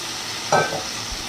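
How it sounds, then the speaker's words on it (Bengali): Cornflour and soy sauce are stirred with water, a brief, soft swish and clink of a spoon in a small bowl. A faint steady hiss runs underneath, with no talk. "এবার এটাকে আমি একটু জল দিয়ে গুলে নেব।"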